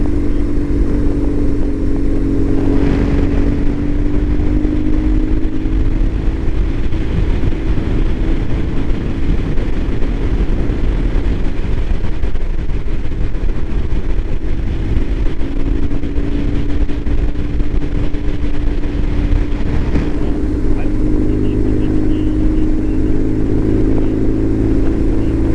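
A fully loaded motorcycle engine drones steadily while climbing a long uphill grade on a Washington highway, a loud continuous hum with wind rush throughout and no talk.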